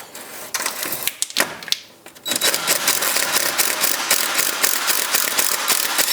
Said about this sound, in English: First we'll remove the two 8mm bolts on the pipe.